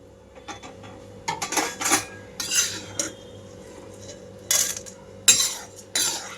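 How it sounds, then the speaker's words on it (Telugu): Fried lentils scooped from a pan onto a plate: a series of metal spoon scrapes and clinks against the pan in irregular bursts, close and fairly loud, over a faint steady hum, with no talking. "ఇలా చక్కగా గోల్డెన్ కలర్లోకి వచ్చేసిన తర్వాత ఇవన్నీ ఒక ప్లేట్లోకి తీసేసుకుంటున్నాను నేను."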